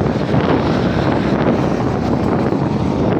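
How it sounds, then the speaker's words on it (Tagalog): Strong headwind roaring continuously over a cyclist's microphone on a night road ride, loud and steady with no talk. "Malakas ang hangin dito."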